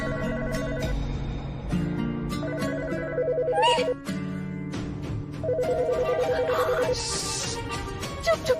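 A phone ringtone plays in repeated electronic bursts with short pauses between them, mixed with background music and other faint tones at moderate volume.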